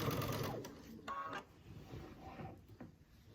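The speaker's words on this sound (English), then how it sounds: "So now I take it back to the sewing machine, and I am going to stitch that section down that is not stitched down yet." A sewing machine stitching down an unsewn section of quilt binding on an heirloom quilt, running in several short bursts of rapid mechanical whirring with brief pauses between.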